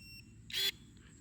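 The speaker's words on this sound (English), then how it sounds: "Hear that beep?" A single short electronic beep from cordless garden pruning shears, clear and close in a quiet room, with no speech.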